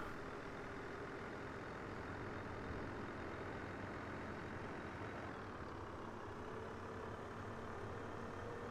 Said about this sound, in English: Let the engine help us down.